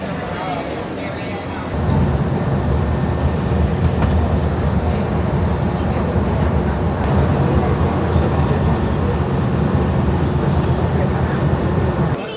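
The Epcot monorail at Walt Disney World gives a loud steady rumbling rush heard close by for over ten seconds, with people's voices mixed in.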